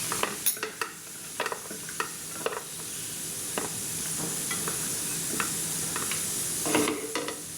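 Raisins and cashews fry in hot ghee in a pan, a soft steady sizzle broken by a string of sharp clicks and scrapes as a spoon stirs them, close up and with no talking.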